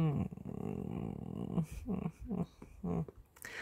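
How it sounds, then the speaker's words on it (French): A dog in the neighbourhood growling and grumbling in low, rough bursts with breathy pauses, fairly close, no talk over it. "il y a un méchant toutou dans le voisinage"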